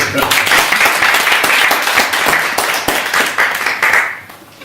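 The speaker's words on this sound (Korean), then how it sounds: "박정학 선생님께서 박수 한번 주시네요." A room full of people claps together, dense loud applause that holds steady and then fades away at the end.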